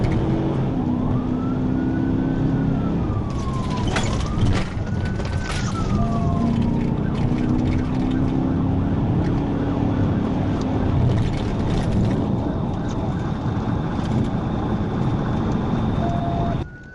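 A police car siren, switched on to start a pursuit, wails loudly and rises and falls, then gives way to rapid yelping tones, over steady road and engine noise.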